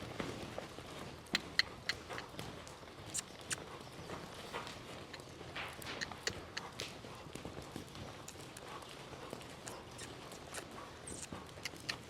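A horse canters on a lunge rope, giving quick, fairly faint hoofbeats in an uneven rolling rhythm over steady background noise, with no talking.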